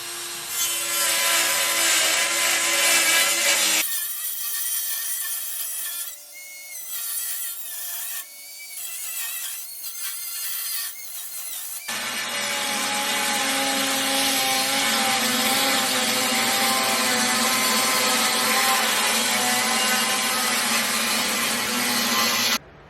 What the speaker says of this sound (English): we have to actually cut into the bumper now